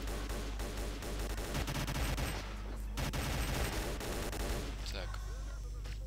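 Gauss gun fire in the S.T.A.L.K.E.R. mod Diversant (Hybrid), a harsh sustained barrage of rapid crackling shots layered over a low droning rumble, steady and loud for several seconds.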